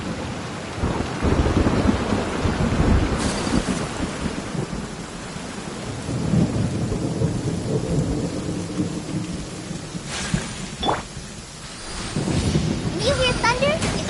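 Game rain and thunder in Genshin Impact's Sumeru region: a steady heavy downpour pattering on surfaces, with rolling thunder rumbles and a sharp crack near the end, loud and continuous.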